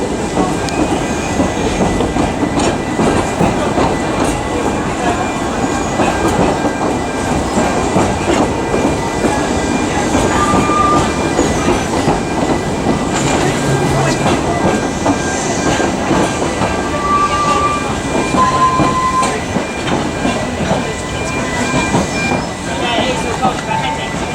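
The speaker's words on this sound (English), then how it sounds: "This is the train that we'll be taking when it's ready." A train rumbles past with a loud, steady clickety-clack of wheels on rails and a few brief squealing tones, heard close throughout under faint background voices.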